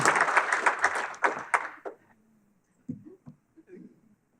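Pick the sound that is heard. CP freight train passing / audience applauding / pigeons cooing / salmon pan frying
audience applauding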